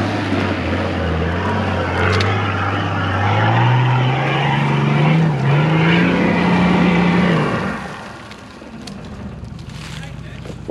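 A 4WD climbing a dirt track on Telecom Hill at Amamoor spins its wheels, the engine droning loud and rising steadily in pitch for several seconds before easing off, with people talking over it.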